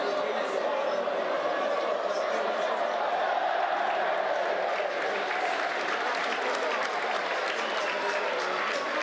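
Supporters in the stands applaud Nocerina players at a football match, a steady distant wash of clapping and crowd noise under a commentator's voice.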